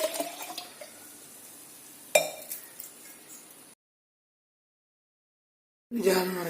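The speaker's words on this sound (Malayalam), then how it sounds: "ഇത് ജാറിലേക്ക് ഒഴിച്ചു" Rose apple wine mixture poured into a jar, a soft liquid splash with light glassy clinks near the start, then a sharper pour surge, a silent gap, and a brief resumption at the end.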